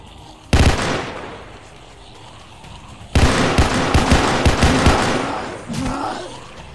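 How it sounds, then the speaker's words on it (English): Rifle fire in the Roblox shooter Paracam: a single loud crack, a pause, then a rapid burst of several close, punchy shots followed by one more shot trailing off, with no voice. "V is your toggle for burst fire"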